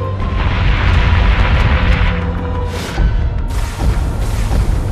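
Loud, rumbling missile explosions in the space combat game Battlestar Galactica: Deadlock, heavy booms rolling continuously with fresh bursts of blast noise layered over a deep low roar.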